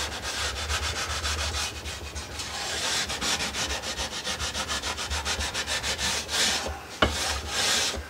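Sandpaper rubbing steadily back and forth during a guitar fret replacement, a dense rhythmic scratchy rasp of quick repeated strokes that stays close and fairly loud, with a brief sharp knock near the end.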